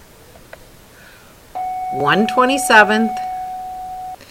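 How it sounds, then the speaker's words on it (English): During a math lesson on exponent rules, an electronic buzzer sounds as a steady, even tone lasting about two and a half seconds while a voice keeps talking over it. "you just heard the buzzer go off"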